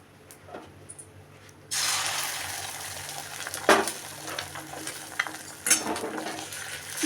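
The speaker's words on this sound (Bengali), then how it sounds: "ডিম অমলেটগুলো আগে করে নিচ্ছি" Egg omelette batter hits a hot pan and bursts into a loud, continuous sizzle after a quiet start, with a few sharp scrapes and clinks of a utensil against the pan.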